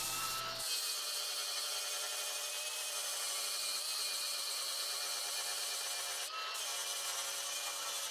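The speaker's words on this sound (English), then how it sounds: "I switched over to a flat disc sander and started to smooth things out" A flat disc sander whines steadily against wood, a continuous high-pitched abrasive hiss with brief pauses at the start and near the end.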